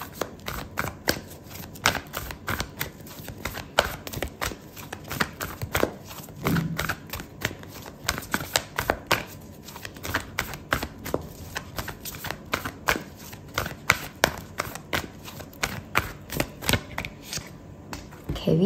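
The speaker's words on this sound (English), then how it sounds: "I'm going to pull out an oracle card for you" A deck of oracle cards is shuffled steadily by hand at close range, giving a long run of quick papery riffles and taps with an uneven rhythm and no talking.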